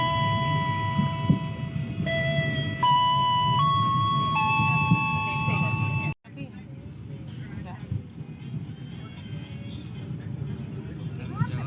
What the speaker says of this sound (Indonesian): ini kereta api Pasundan sudah masuk di stasiun Purwosari